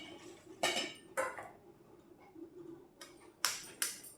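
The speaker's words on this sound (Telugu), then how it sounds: "ఒక్కో ఎగ్ కొట్టుకుని మనం" Eggs are cracked one at a time against a bowl while preparing egg kebabs, giving a few sharp, bright cracks and clinks spaced apart over a quiet kitchen background.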